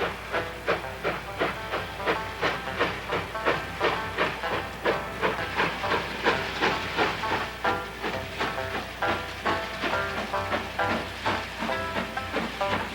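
Rhythmic chuffing and hissing of a steam train hauling heavily loaded boxcars of wood uphill, steady repeated bursts with clanking rail rhythm underneath, fairly close and continuous.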